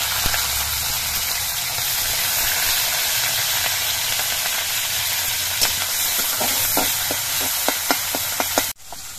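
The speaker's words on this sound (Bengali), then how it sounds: "এবার বিনস গুলো ভেজে নিচ্ছি।" Green beans frying in oil in a wok make a loud, constant close-up sizzle, with a series of stirring clicks and scrapes toward the end before the sound drops abruptly.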